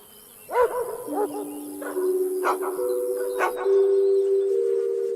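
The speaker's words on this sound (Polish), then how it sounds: "Psy na łańcuchach nie pozwalały nawet zbliżyć się do muru." Several dogs on chains bark in short bursts near a guarded wall, with a few sharp yelps amid steady tonal hums and insect-like buzzing in the background.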